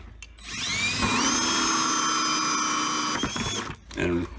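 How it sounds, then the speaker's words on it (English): A power drill bores a hole in a 5-gallon bucket lid, giving one steady, close whine lasting about three seconds before winding down. "Gonna be drilling 6 holes here."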